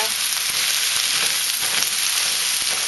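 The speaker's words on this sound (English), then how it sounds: "I'm just going to saute that up and get it softened" Carrot chunks and onions sauté in a pan with oil for a leftover pork Thai stir fry, giving a steady, close, continuous sizzle with faint stirring ticks and no talking.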